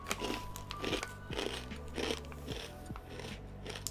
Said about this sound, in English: Sorry, that crunch is so crazy.